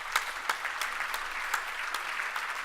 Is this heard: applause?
yes